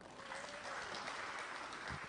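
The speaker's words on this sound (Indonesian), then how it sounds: "Boleh tepuk tangan" Steady, soft applause from an audience at a meeting of honorary teachers, a continuous patter of hands that sounds distant and even throughout.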